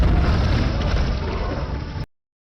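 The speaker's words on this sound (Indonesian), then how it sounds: "Ledakan pun terjadi." A grenade explosion from an action movie bursts out as a loud, deep, rumbling blast. It roars steadily for about two seconds, then cuts off abruptly into silence.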